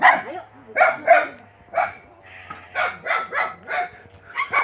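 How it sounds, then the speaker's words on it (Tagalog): Close, loud barking from a dog at a mountain house, a string of quick yappy barks in uneven clusters with short gaps, faint whimpery tones between. "So, ito na nga yung aso."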